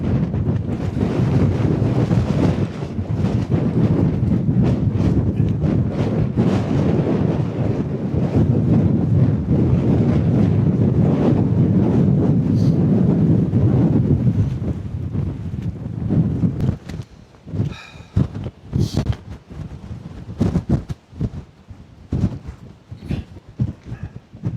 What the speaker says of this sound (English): Jeez, it's windy.